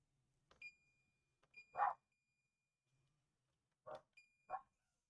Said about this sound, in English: Okay, apologize for the dogs.